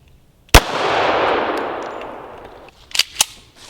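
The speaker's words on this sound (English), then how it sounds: "I'm gonna shoot the drink station there." A single sharp gunshot, a 230-grain round fired at a drink station target, cracks loudly and rings out in a long decaying echo, followed by two fainter sharp clicks or knocks near the end.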